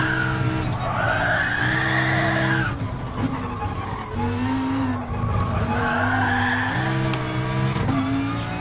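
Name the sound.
Lamborghini race car tires skidding on a track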